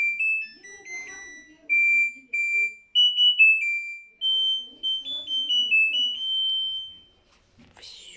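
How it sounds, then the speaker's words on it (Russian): An LG F12B8MD1 washing machine plays its end-of-cycle melody, a string of clear electronic beeping tones stepping up and down in pitch for several seconds, followed by a brief rustle. "Все, закончила машинка"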